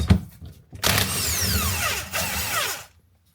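An impact wrench works the steering wheel nut on a Porsche Boxster in two loud, close bursts of buzzing hammering. Each burst winds down in pitch, separated by a brief pause, and the sound ends in silence.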